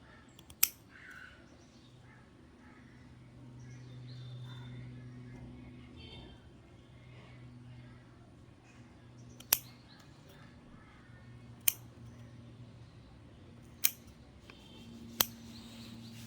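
Scissors snip dead roots from washed Oncidium Tzeng Wen Spot orchid seedlings, giving sharp isolated clicks spaced several seconds apart over a quiet room hum, with one near the start and four more later on.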